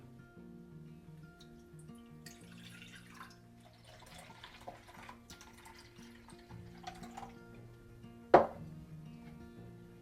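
Water and apple cider and white wine vinegar poured for a quick pickle, a soft trickling, dripping liquid sound at low level under a faint background hum, with one sharp clink near the end.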